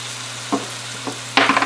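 Steak sizzling in a hot pan for Philly cheesesteak sliders, a constant frying hiss under a low hum, with a few close scraping and tapping bursts as the meat is moved and seasoned.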